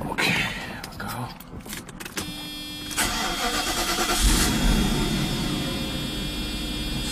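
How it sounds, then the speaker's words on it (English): A Mercedes V8 car engine cranks with a short whirring starter burst, then catches and settles into a loud, steady idle close by, with faint brief talk near the start. "let's start the car."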